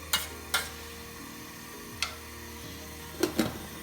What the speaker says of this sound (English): Give it a little stir around just in case any of the rice is clumped together